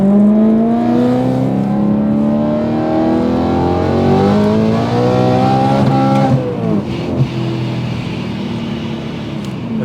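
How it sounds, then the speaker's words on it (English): Supercharged Mitsubishi Evo 8 with a blower setup accelerating hard, its engine note climbing steadily in pitch through a gear, briefly dropping at a shift, then pulling again, loud and close throughout. "This car is ridiculously quick."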